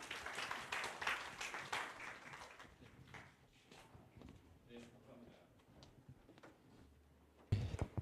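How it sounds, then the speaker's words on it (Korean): An audience at a Seoul economics seminar claps to welcome a speaker. The applause is dense at first, then thins over several seconds while voices murmur in the room. "모두 박수로 맞이해 주시기 바랍니다."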